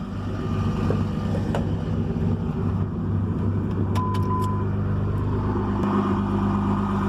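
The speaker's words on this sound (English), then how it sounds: "Gotta love that Cummins high idle." Cummins diesel engine in a Ram truck running at high idle, a steady, loud low-pitched drone with a constant hum throughout, no talking over it.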